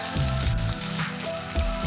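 Chopped onion hits peas already frying in a pan for white sauce macaroni, producing a short burst of steady sizzling hiss with background music playing throughout.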